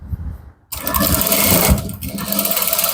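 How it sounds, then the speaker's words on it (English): Palazzo trousers being stitched on a sewing machine, a steady loud mechanical whirr that starts abruptly after a short quiet gap and runs continuously with slight changes in pace. "Sew it down this way. Sew it all through this way."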